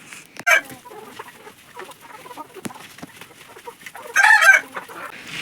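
Native chickens cluck and squawk nearby in two brief bursts from a coop box, with quieter rustling and scattered soft bird sounds between them.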